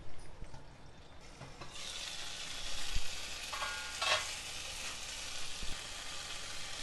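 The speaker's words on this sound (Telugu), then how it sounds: "ఇప్పుడు మూత పెట్టి ఇంకో వైపు కూడా చక్కగా వేగనివ్వాలి." Raw mango pieces and green chillies sizzle in a covered pan, a steady soft frying hiss with faint clinks and stirring knocks, fairly quiet and close.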